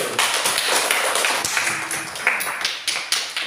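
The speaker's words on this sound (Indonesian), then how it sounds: "Beri tepuk tangan dulu." Classroom students clap in a burst of applause, with sharp, uneven claps from several pairs of hands. The clapping is close and fairly loud, starts and stops raggedly, and carries no talk.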